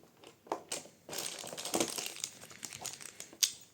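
The packaging of a fishing lure advent calendar box is torn and opened, giving close crinkling, crumpling and tearing sounds in irregular bursts, with no talking.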